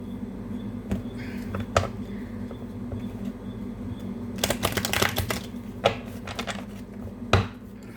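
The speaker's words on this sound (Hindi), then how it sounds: "कार्ड्स को फिर से शफल कर लेते हैं" Tarot cards being shuffled by hand: scattered soft slaps and taps, then a denser riffling flurry midway, over a low steady room hum.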